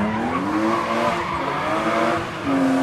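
A rear-wheel-drive BMW E36 rally car at a rally event, its engine note rising and falling as it passes, loud and steady over the short stretch.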